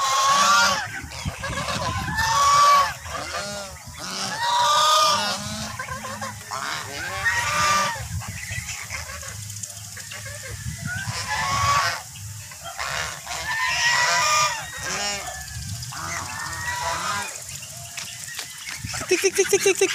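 A noisy rural flock of geese, ducks, turkeys and guinea fowl calls nearby, loud honks and squawks overlapping in repeated bursts, with cackling and clucks throughout.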